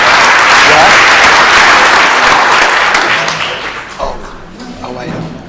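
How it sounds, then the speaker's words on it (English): Loud, dense applause from a Rotary Club meeting audience swells, then thins out after a few seconds as voices come through. "Let's give one last round of applause to all these great guests"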